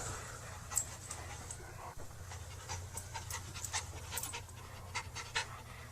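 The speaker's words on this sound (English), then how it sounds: "The dog is bothered by something in the closet, maybe?" A dog pants steadily and whimpers while bothered by something in a closet, a close, continuous breathy rhythm with a few soft high whines and no talking.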